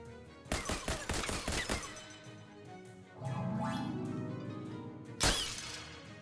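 Gunfire in the Shadows Over Loathing video game: a rapid burst of five or six sharp shots, then a rising whoosh and rumble, and a final loud impact near the end.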